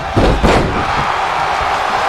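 A quick head-takedown slam by Swerve Strickland in a pro wrestling video game gives a loud thudding impact near the start, followed by steady crowd noise that carries through the rest of the moment.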